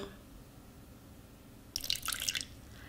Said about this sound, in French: Un quart de verre d'eau à peu près.